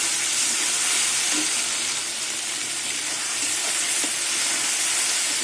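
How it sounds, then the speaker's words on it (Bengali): Garlic fries in a pan with taro leaves and shrimp, a steady, even hiss of cooking oil with a few muffled pops. "আর একটু ভেজে নেবো"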